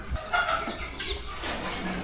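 Several hens clucking in a flock of about a hundred poultry at vaccination time, soft scattered clucks and short calls at moderate distance, with a louder thump near the start.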